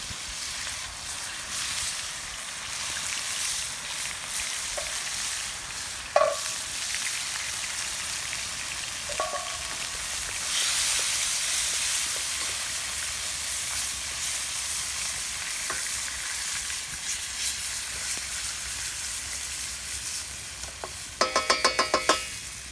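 Tomatoes tipped into a pan of seared pork over an outdoor wood fire set off a steady, close sizzling and frying with a few clinks and stirring scrapes, and no voice.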